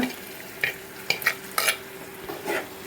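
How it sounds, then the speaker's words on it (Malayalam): Hot oil sizzles and crackles in short bursts as pieces of fish drop into the pan, with a faint steady hum underneath. "ഇനി നമുക്ക് മീനിടാം"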